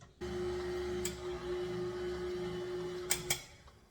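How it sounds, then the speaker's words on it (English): An electric mixer whirs steadily through blueberry cake batter containing sour cream, a close, even motor hum lasting about three seconds before it shuts off, followed by a couple of sharp clicks. "And just mix it maybe another 10-15 seconds."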